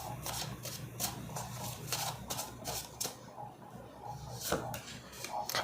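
Tarot cards being shuffled by hand, giving soft, rapid riffling and slapping bursts that repeat throughout at close range and low volume.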